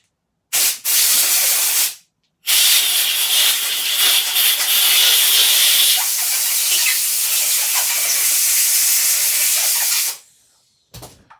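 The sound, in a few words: air blowout of Suffolk Punch engine part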